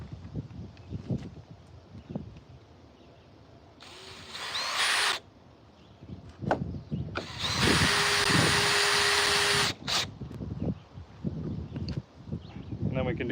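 A power drill drives screws into wood while building a semi-portable chicken coop outdoors, with several bursts of whirring, the longest nearly two seconds, between people talking nearby.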